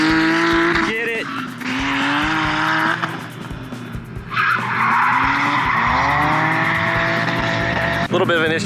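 Drift cars at Summit Point Raceway's Jefferson Circuit skid through corners with long, loud tire squeals and revving engines rising and falling close by, while people talk over the noise.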